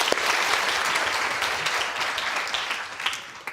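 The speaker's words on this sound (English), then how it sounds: "And a big round of applause." Audience claps for a volunteer on a food science show, a brisk, fairly close round of applause that holds steady and fades slightly near the end.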